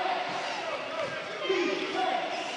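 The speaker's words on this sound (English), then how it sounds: "I can actually hear the crowd from here" A crowd at a basketball game makes a dense, steady murmur and cheer that fills the space, heard from some distance, with no clear single voice standing out.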